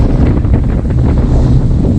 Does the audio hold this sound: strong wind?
yes